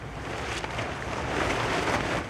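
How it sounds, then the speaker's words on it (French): Steady outdoor wind roars and buffets the microphone in a continuous broadband rush, with no voices. "Il y a du vent ici."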